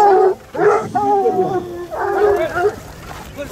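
Pack of French hunting hounds, bred from south-western French stock, giving loud, drawn-out baying and yelping in close bursts while someone talks over them.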